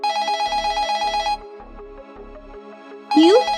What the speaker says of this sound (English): You can answer the phone.